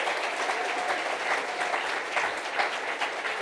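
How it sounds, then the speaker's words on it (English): An audience at an annual charity conference applauds, a dense, even wash of many hands clapping at once, held steady throughout at moderate loudness. "deserves another huge round of applause"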